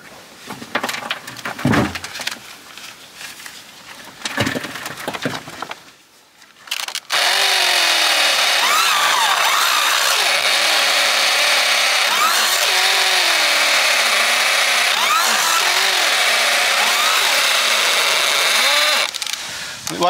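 A Makita drill bores into a thick stone cottage wall; after a few seconds of scattered knocks and handling noise, a loud, sustained whining grind takes over and holds steady for the rest of the clip, close up.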